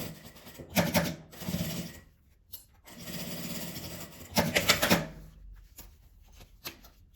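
Sewing machine stitches plastic in short bursts, with a few seconds of rapid mechanical rattling broken by quiet pauses and small handling clicks, close by.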